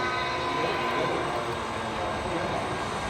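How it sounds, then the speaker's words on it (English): A 1990s-era model railroad train runs through tunnels at a San Diego model railroad museum, a steady continuous rolling rumble without pause while a person talks over it. "Get the whole train as it goes through the tunnels here."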